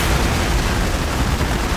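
Explosions rumble in a DCS flight simulator combat mission, a dense, continuous low booming roar of blasts and impacts sustained from start to end.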